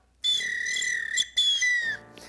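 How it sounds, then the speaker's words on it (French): Referee's whistle blown to start a race between a hare and a tortoise in a children's cartoon Olympics, a loud shrill tone lasting about two seconds with a brief break midway, alone. "Alors vous partirez au coup de sifflet"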